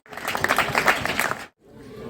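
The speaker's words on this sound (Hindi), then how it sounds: "जोरदार तालियों के साथ उसका स्वागत करें।" An assembly at a school Ambedkar Jayanti celebration breaks into a short burst of loud clapping welcoming a student to the stage, stopping abruptly before faint room noise returns.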